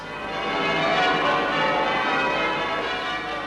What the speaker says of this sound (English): The bells of the Abbey, which a year before had seen a royal wedding, now carol a royal birth.